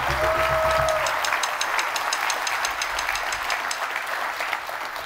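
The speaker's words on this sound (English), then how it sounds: "Once again, can we get applause for all 3 nominations?" An audience at the Summer NAMM 2014 Top 100 Dealer Awards applauds all three nominees. Brisk, steady clapping rises after a brief tone at the start and carries on, slowly easing toward the end.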